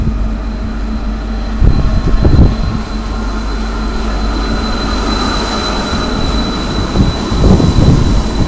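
A steady low rumble and hum inside a moving train in heavy rain near Bergen, with a couple of louder clattering surges, close and continuous and with no talking.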